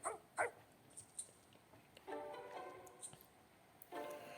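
Dog barking in the Detective Pikachu video game on Nintendo 3DS: a handful of short, separate barks spread over a few seconds, fairly quiet over a low background.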